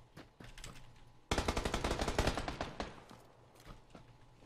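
Rapid bursts of suppressed AK rifle fire in PUBG, a dense rattling volley of shots that starts loud and close, then thins into scattered follow-up rounds, with faint fire heard just before it.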